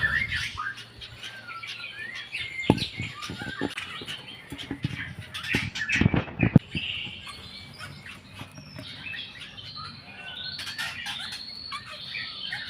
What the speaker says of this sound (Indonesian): Kali ini kita cek lagi anakan burung jalak Rio Rio.